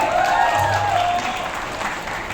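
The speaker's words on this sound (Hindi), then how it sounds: "इसलिए जोरदार ताली पठान के लिए।" Audience applause for the film Pathan rises at a stage event, a loud continuous clatter of clapping that stays strong and then eases slightly toward the end.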